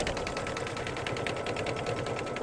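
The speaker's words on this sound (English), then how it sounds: "I will let these stitch" A sewing machine runs steadily, stitching white and silver snowflakes onto a mug rug, its needle tapping in a fast even rhythm, close and continuous with no talk.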